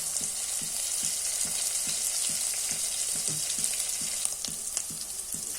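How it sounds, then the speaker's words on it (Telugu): Curry leaves fry in a pan for a masala curry of soya chunks, potato and green peas, giving a continuous bright sizzle with soft regular ticks from stirring. "ఒక 2 మినిట్స్ ఫ్రై అవ్వనివ్వాలి. ఫ్రై అవుతుండగా కొద్దిగా కరివేపాకు,"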